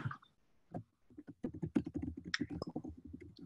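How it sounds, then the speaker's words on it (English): Typing on a computer keyboard during a live online session, a quick irregular run of close, crisp key clicks after a brief pause, with no talking. "I hear typing"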